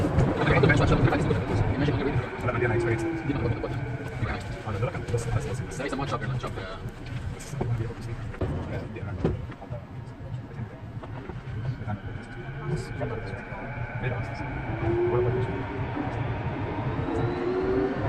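Vancouver SkyTrain car running between Waterfront and YVR-Airport, a steady rolling rumble with whining motor tones rising and falling, continuous and close throughout, with an onboard announcement voice over it.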